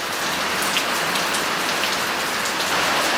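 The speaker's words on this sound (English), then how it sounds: "Since it's raining out so much," Heavy rain pours outdoors in a dense, steady hiss of drops drumming on surfaces, loud and unbroken throughout with no talking.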